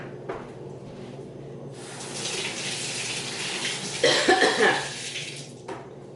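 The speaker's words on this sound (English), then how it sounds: "Now I better wash my hands, guys, because I don't want any of these seeds on me." Hands are washed under a running kitchen tap, a steady rush of water that swells and splashes more heavily midway, with faint rattling of dishes nearby.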